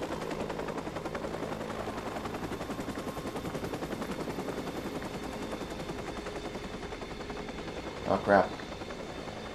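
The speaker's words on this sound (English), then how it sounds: "The helicopter's also watching me." Helicopter in the Watch Dogs video game, a steady rhythmic rotor chop running all the way through under a voice, with a sharp burst of louder noise near the end.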